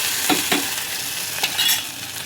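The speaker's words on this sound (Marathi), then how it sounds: "हे बघा मी आता याला तेलात फ्राय करते" Sukkad, a dried traditional ingredient, frying in hot oil in a pan, with a loud continuous sizzle and a few quick stirring scrapes, close up and without speech.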